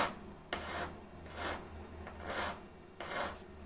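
A hand file rasps along the sharp aluminium unibody edges of a MacBook Pro, making slow, even strokes in one direction, about four or five scraping passes, close by and moderately quiet.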